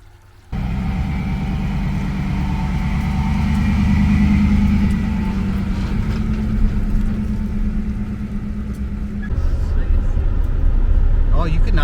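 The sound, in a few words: RV driving on the road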